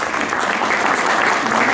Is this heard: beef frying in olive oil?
no